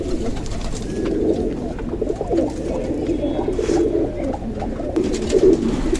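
Many pigeons coo continuously nearby, a soft overlapping burble that keeps going throughout over a busy ambient background.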